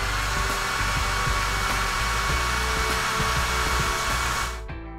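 A hair dryer blows loudly and steadily on toys to dry them, a continuous close whooshing drone that cuts off abruptly near the end.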